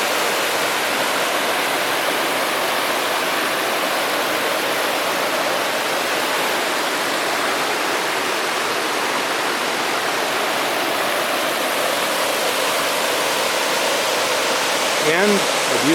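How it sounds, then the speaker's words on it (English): A waterfall in the Bob Marshall Wilderness roars as a steady, dense wash of falling water, loud and unbroken throughout. "And a beautiful waterfall."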